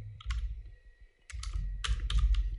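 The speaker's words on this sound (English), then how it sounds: "Hit F2 on the keyboard to rename" Soft clicks from a computer keyboard come in a few short bursts, like a key such as F2 being tapped while editing in DaVinci Resolve, over a low, steady background hum.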